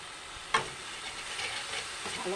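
Spice paste with salt frying and being worked in a pan, a steady close sizzle broken by a sharp scrape of the spoon near the start and softer stirring strokes after.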